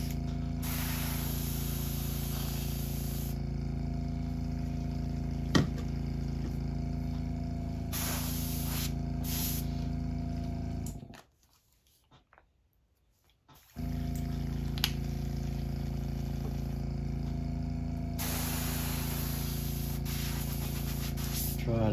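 An airbrush sprays candy yellow paint onto a custom fishing crankbait, a soft steady hiss running most of the time, broken by a brief pause midway before resuming, close and alone without talk.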